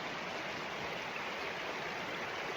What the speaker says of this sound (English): When I come down to the water,